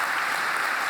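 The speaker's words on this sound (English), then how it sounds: "A big round of applause for Sebastian." Audience applause after a conference talk on PHPUnit, a brief, steady wash of clapping from a crowd with no voices over it.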